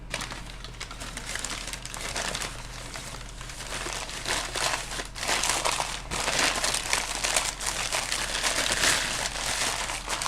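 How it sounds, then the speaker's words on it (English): Paper crumples and crinkles while items are packed for storage, with loud, continuous rustling and crunching that swells toward the end. "Sorry for all the noise of the paper."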